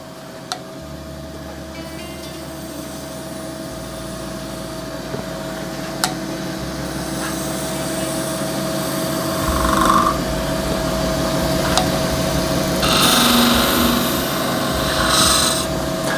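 A wood lathe spins a shaving brush handle with a steady hum while a spindle gouge rubs and scrapes against the turning piece, the cutting growing slightly louder toward the end.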